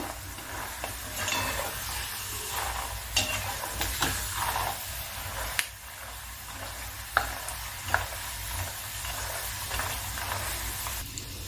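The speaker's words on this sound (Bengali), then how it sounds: "গ্যাসটা সিম করে আমি আস্তে আস্তে বাদামটাকে ভেজে নিচ্ছি" Steady low sizzle of peanuts frying gently in oil over a low gas flame, with occasional scrapes and taps of a spoon stirring the pan.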